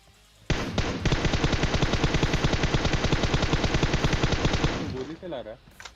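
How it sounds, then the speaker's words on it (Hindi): Sustained rapid-fire gunfire in PUBG Mobile rattles continuously for several seconds, loud and close, then cuts off, followed by a brief swooping electronic sound. "गोली चला रहा है।"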